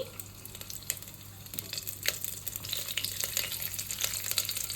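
Garlic and green chilies sizzle steadily in hot oil for a spinach dal tempering, a continuous close frying hiss with scattered crackles and a few stirring scrapes, no talking.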